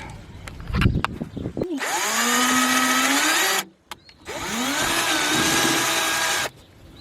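A cordless power drill bores into a campervan's panels during on-the-road van maintenance, two sustained high-pitched whirring bursts of about two seconds each, separated by a short pause, loud and close with faint handling noise before the first.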